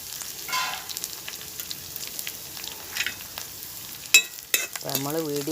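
Curry leaves sputter and sizzle in hot oil while being stirred, a close, steady crackle with a couple of sharp clinks and a brief wavering tonal sound near the end.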